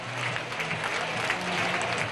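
FC Carl Zeiss Jena supporters cheer and applaud after a goal at a 3. Liga football match against Borussia Dortmund's reserves, a dense, steady roar of crowd noise filling the whole moment.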